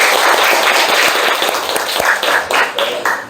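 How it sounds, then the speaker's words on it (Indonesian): Students in a chemistry class clap together in a short, dense burst of applause, rhythmic and close, fading toward the end with a few scattered claps. "Tepuk tangan dulu."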